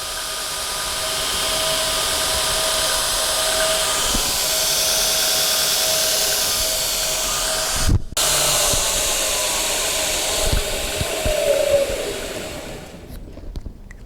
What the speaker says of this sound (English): because this is a different belt, it's going to grind with a little bit different pitch.